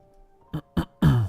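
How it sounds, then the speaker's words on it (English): Someone clears their throat three times up close, two short rasps followed by a longer, rougher one, with faint hum in the background. "Apologize for me clearing my throat so much."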